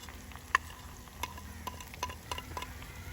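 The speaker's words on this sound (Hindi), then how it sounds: "प्याज हमारा अच्छे से भुन गया है। अब मैं इसमें नमक डाल दूँगी।" Onion frying in a pan as salt is added for a Punjabi-style radish dish, a steady close sizzle broken by several sharp scrapes and clicks of stirring.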